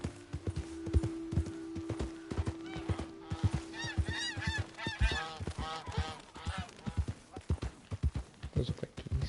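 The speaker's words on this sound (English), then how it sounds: "Those look like geese." Geese seen near a wild woodland trail honk in a short burst of nasal calls, with close hoof-like clip-clop footsteps running throughout and a faint voice.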